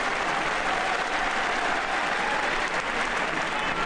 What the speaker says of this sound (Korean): 박수가 터지고 있죠. 두 선수를 격려하고 있습니다.